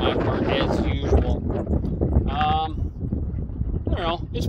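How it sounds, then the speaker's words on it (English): Gusty wind buffets the microphone in steady, rumbling bursts on a musky fishing outing, with talking voices mixed in throughout. "it's pretty windy"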